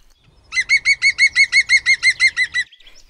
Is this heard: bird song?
yes